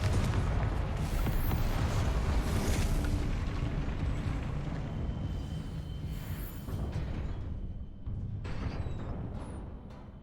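A Confringo blasting curse detonates in Hogwarts Legacy, a deep booming explosion with a rumbling, crackling tail that slowly fades, carrying loud low-end energy with no voices.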